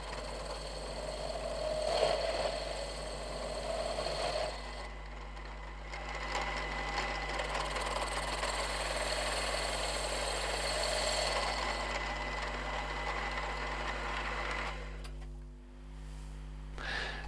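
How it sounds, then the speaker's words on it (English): A machine tool cuts the taper end of a Bond Minicar steering part, giving a faint continuous scraping whir with a steady low mains hum beneath, changing tone partway through and then winding down near the end. "Machining the taper end was quite a straightforward job."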